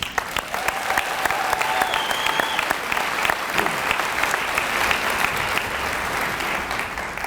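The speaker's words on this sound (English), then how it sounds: "I think that deserves a round of applause." Sustained applause from a crowd at a Class of 2022 graduation ceremony, dense steady clapping that fills the room for several seconds, with faint voices underneath.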